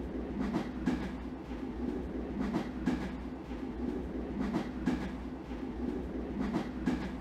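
A steady train ride in the video game Kuuki Yomi 2 rumbles continuously with rhythmic clickety-clack wheel beats repeating throughout, moderately loud and alone without talk.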